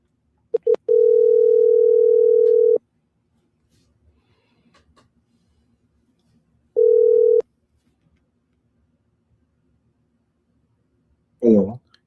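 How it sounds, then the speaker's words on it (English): A telephone dial tone for a phone call, a steady tone in a long burst then a shorter one, with a brief voice at the end. "connect this phone and see whether that call will go through"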